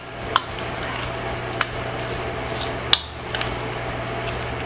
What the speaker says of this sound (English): So now we're ready to stir. And now I stir it up.